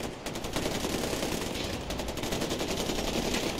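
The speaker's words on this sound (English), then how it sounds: "It's a hell of a firefight if that's guns." Sustained rapid gunfire in a Far Cry 4 firefight, continuous overlapping bursts at steady loudness, a dense rattling barrage heard for several seconds without talk.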